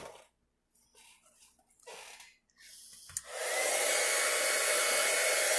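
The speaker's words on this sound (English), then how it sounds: "I hope you can hear me over the heat gun" A heat gun blasts hot air over embossing powder, switching on after a few seconds of quiet rustling and then holding a loud, steady, close-up rushing whoosh.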